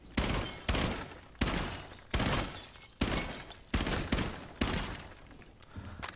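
Gunfire in the video game Rainbow Six Siege rings out as a steady series of about nine sharp, evenly spaced shots, each with a short decaying tail, fairly faint overall.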